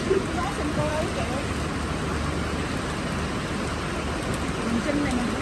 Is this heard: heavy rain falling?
yes